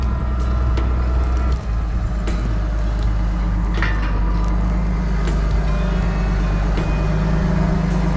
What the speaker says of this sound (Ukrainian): Трактор у нас Master Ferguson.